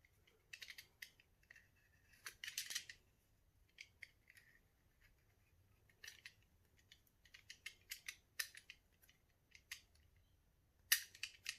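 Scissors snip around the edge of a shimmery mermaid-scale resin coaster, trimming off excess bits in a series of short, crisp cuts with quiet pauses between them, close and fairly faint with no talking.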